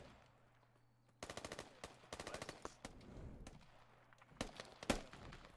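Rapid bursts of automatic rifle fire in the Squad military shooter game, with clusters of quick cracks and a few single shots, fairly distant and quiet against a low background hum.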